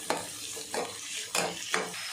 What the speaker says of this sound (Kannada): ಕರಿಬೇವು, ಜೀರಿಗೆ ಸ್ವಲ್ಪ, ಈರುಳ್ಳಿ ದೊಡ್ಡದು ಎರಡು ತಗೊಂಡಿದ್ದೀನಿ. ಇದನ್ನು ಫ್ರೈ ಮಾಡ್ಕೋಬೇಕು